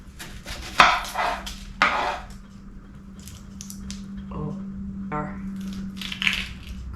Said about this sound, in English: I'm just going to get these onions sliced and the shallot